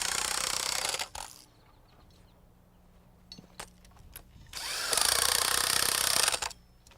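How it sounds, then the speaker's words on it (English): Impact wrench tightening nuts and washers onto bolts through mud sills during house floor framing, with two loud, sustained bursts of rattling hammering separated by quieter clanks of handling hardware. "Joe puts washers and nuts on the bolts, and I like to tighten them down with an impact wrench."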